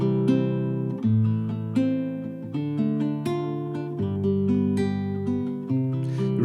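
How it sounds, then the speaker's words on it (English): Guitar strumming a 1-6-2-5 chord progression, four chord changes with fresh plucked attacks roughly every second or so, close and clear with no talking. "I will play it on guitar for you so you can hear."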